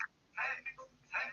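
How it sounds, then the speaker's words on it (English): A mobile phone rings or chimes in a few faint electronic bursts, somewhat distant in the room with quiet background noise. "That's my phone."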